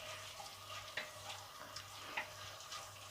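Lardons and tomatoes fry quietly in a pan, a soft steady sizzle with a few faint clicks of stirring, heard alone without talk.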